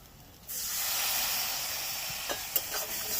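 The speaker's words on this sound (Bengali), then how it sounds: "এটাকে আমি পুরো নরম যতক্ষণ না হচ্ছে ততক্ষণ পর্যন্ত এটাকে ভাজবো" Green peas sizzle steadily in a pan with a faint scrape of stirring, a continuous near hiss that starts suddenly and carries on alone.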